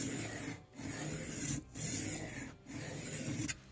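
An MKM TPF knife is drawn across inexpensive diamond sharpening plates in close, steady rasping strokes, four long passes separated by brief pauses, with no voices.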